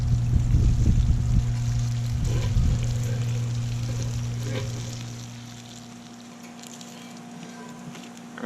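Bacon sizzles in a pan on a camp stove during a Jeep overlanding overnighter, a steady crackling fry that is strongest at first and then fades gradually, heard alongside a constant low hum.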